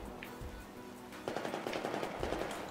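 Rapid automatic gunfire in the video game Battlefield 4, a dense burst of repeated shots starting partway through and continuing steadily to the end over a faint game background.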